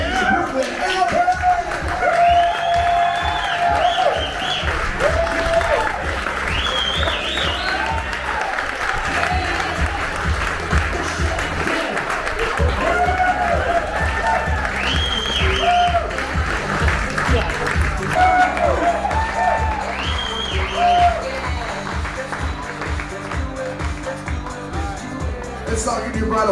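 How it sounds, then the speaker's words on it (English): Wedding guests applaud and cheer the newlyweds in a long, full round of clapping with whoops and shouts, while an amplified voice talks over the crowd throughout. "Let's all give your bridal party one more big round of applause"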